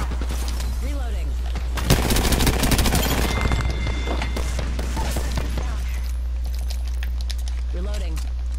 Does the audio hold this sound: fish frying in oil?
no